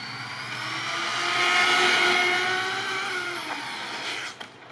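A JLB Racing Cheetah 21101 RC car makes a speed run, its electric motor whining up to a loud sustained pitch as it passes, then fading away, with a few clicks and knocks at the end.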